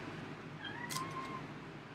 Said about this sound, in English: I can hear that cat just freaking out.